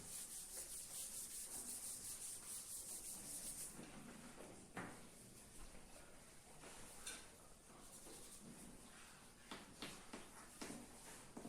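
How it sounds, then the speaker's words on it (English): An eraser rubs back and forth on paper, a faint, close scrubbing texture with steady rhythmic strokes and occasional light taps, heard alone. "I will rub out this also"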